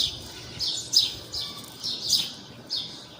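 Birds chirp outdoors in a rural Filipino setting, bright high calls repeating in several short bursts about once a second, moderately close over a low background rumble.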